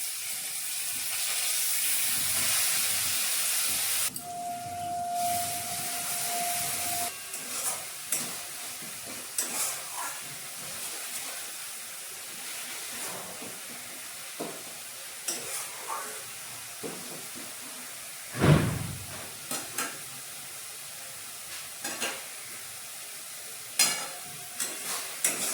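Spices and yogurt fry in a pan over browned onions, sizzling loudly at first, then settling into softer hissing broken by repeated scrapes and clanks of stirring.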